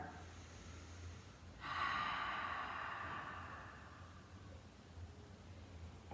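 A slow, calm breath held in a gentle yoga pose, a soft, close airy exhale swelling suddenly and then fading gradually over several seconds in a quiet room.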